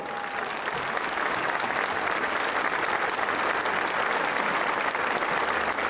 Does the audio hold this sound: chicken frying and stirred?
no